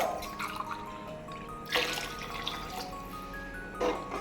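Water splashes and trickles into a cooking pot in a few separate pours for vegetable dum biryani rice, with quieter dripping between them and no voices.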